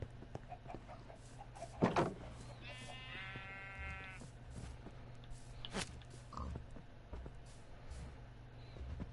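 A Minecraft sheep gives a short wavering bleat mid-scene on a Bedrock farm with fences and walls, amid faint clicks and low background hum, with no talking.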